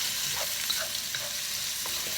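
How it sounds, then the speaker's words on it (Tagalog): Chopped onion sizzles and fries steadily in a pan as a Filipino sautéed upo dish begins, with faint scrapes and stirring taps of a utensil over the constant close hiss. "Haluin lang po natin hanggang sa ito po ay mag-transparent na yung onion."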